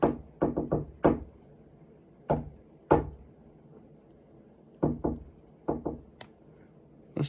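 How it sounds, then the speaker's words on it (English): Knuckles rap on wood in irregular clusters of sharp, close knocks separated by short pauses, alone in a quiet room. "Knock on wood."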